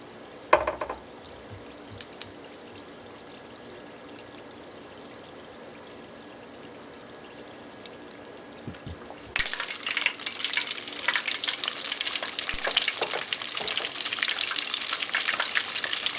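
Chicken legs dropped into canola oil heated on high burst into loud, continuous sizzling and crackling frying noise after a quiet stretch with a few faint clinks and taps.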